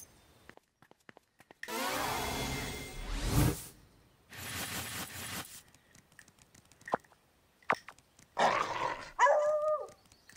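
A dog barks and growls in a video game amid whooshing, rushing noises, with separate bursts and a short, tonal yelp near the end.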